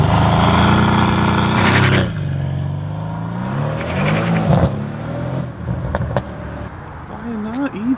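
A 2019 Mercedes-AMG C63S engine revs hard during a burnout attempt, a loud sustained roar that drops and rises in pitch, with people talking over it.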